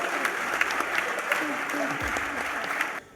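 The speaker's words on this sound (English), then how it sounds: "Please, a big round of applause for all our speakers." Audience at a big data platform panel session applauds the speakers, a steady dense wash of clapping from a crowd, moderately loud, cutting off abruptly at the end.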